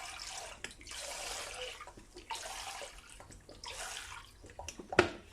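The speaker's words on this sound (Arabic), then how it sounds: "ها هي نص قرعه ماء زهر" Orange blossom water pours close by into a bowl of semolina for makroud, a series of broad splashy rushes with short pauses between them, ending in a sharp clink.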